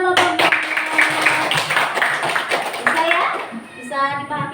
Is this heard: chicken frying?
no